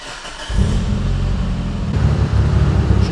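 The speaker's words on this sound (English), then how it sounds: "Let's fire it up, get that oil moving around" A 2.3 liter stroker car engine on a dyno cranks briefly and catches, then settles into a loud, close, rough idle that rises slightly toward the end.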